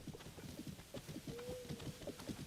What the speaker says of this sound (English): Ooh, you are a beautiful horse.